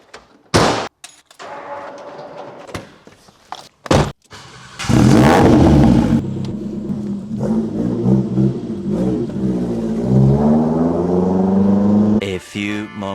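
A car being driven to the Castle Combe racetrack, its engine revving and accelerating loudly through rising and falling gear sweeps, after a few short door thumps and handling knocks at the start.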